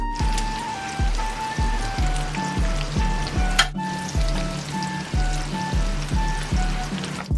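Bacon sizzles and spatters in hot oil in a pan, a steady frying hiss with repeated rhythmic scraping or stirring strokes, close and fairly loud with no talking.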